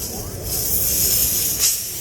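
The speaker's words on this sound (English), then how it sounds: "You hear the air coming out?" A steady, close hiss of air escaping from a seal, rising slightly midway, with a brief sharper burst near the end.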